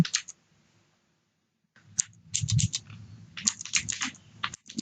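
Someone types a name on a computer keyboard, quick bursts of close key clicks after a short pause, with irregular rhythm.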